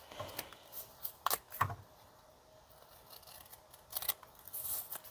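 Paper for a junk journal being trimmed with scissors, a few quiet snips and short cutting bursts spread across a soft background, close and faint.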